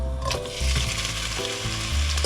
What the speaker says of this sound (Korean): 어묵 볶아줄게요.